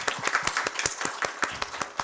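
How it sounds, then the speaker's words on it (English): An audience at a startup session gives a short burst of applause, dense rapid clapping that stays fairly even and close throughout. "I think he deserves a big round of applause"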